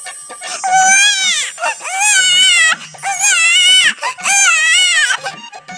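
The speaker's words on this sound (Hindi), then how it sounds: "बच्चे के रोने की आवाज सुनाई देने लगी" An infant wails in repeated long, loud cries with short breaths between them, close and alone.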